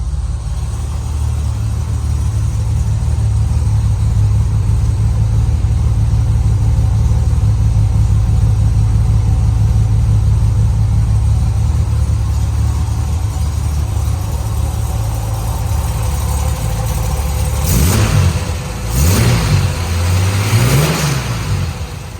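A 1963 Jaguar E-Type Series 1 coupe engine idles with a steady, loud, close rumble, then gives three sharp blips of revving near the end.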